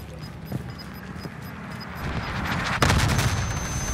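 Bombing run explosions in Call of Duty: Modern Warfare, with scattered distant pops and thuds, then one sharp heavy blast followed by sustained rumbling and debris noise.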